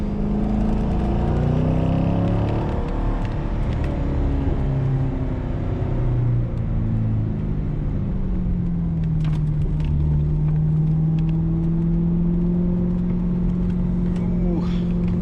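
A 2004 Corvette C5 with a six-speed manual pulls through second gear on a twisting mountain road, its engine rumbling and rising and falling in pitch as it accelerates and eases off, with people talking in the cabin over it.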